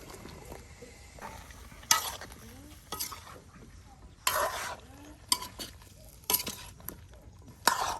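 Bottle gourd being stirred into a mustard fish curry in a village pot, with repeated scraping stirs and clinks at irregular intervals over a soft simmering sizzle.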